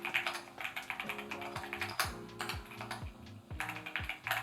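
Steady, rapid typing on a Keychron Q14 Max 96% Alice-layout mechanical keyboard with Gateron Jupiter switches, close-up crisp keystrokes with occasional heavier thocks, no talking.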